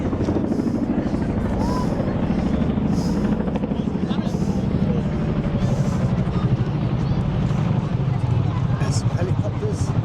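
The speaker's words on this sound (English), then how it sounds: "There's some helicopters." Helicopters thud steadily overhead with constant rotor chop at a royal parade in Bangkok, loud and continuous, while a crowd murmurs and people talk underneath.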